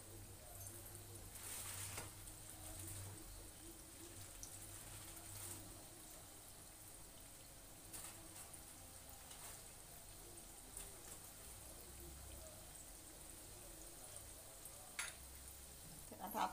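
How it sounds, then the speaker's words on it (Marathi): Bhaji pakoras fry in hot oil with a continuous soft sizzle and bubbling crackle, faint and steady throughout, with occasional clinks and stirring noises. "आता आपण छान अशी तळून घ्यायची आहे"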